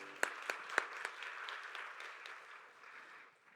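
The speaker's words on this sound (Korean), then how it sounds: "박수로 서로를 격려하겠습니다." A church congregation at a Sunday youth service gives brief applause, a few sharp claps up front swelling into soft, scattered clapping that fades out toward the end.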